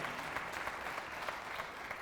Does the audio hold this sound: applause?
yes